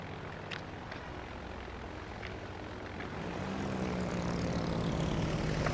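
Droning propeller engines of carrier aircraft launching in World of Warships, a steady hum that grows louder as planes take off, with no talking.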